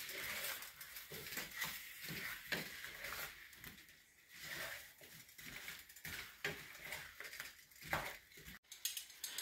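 Ground cinnamon is stirred into apple pie filling, a steady run of scraping and clinking strokes of a spoon against the bowl, repeated in a loose rhythm and fairly close.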